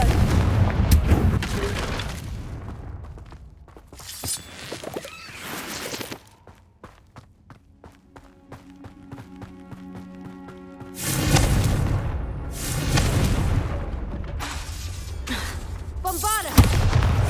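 Confringo fire spells in the Hogwarts Legacy video game bursting in repeated loud explosive booms, grouped in clusters separated by quieter stretches, with brief vocal sounds between blasts.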